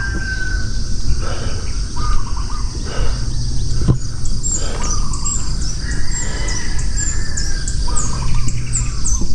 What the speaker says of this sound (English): Hear the birds in the jungle.